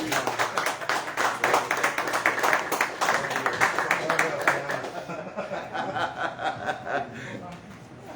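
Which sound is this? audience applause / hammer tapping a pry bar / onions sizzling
audience applause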